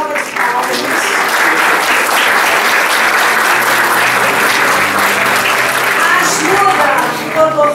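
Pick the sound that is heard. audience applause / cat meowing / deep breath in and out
audience applause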